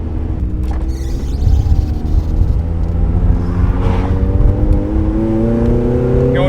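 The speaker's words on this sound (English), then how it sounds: "This one has a COBALT AXLEBACK exhaust, RACINGBEAT mid-pipe, and RACELAND header. So the car is catless." A tuned NB Miata running catless with a Cobalt axleback exhaust, Racingbeat mid-pipe and Raceland header drones loudly from inside the cabin, a deep rumbling engine note climbing steadily as it pulls uphill, with no talk.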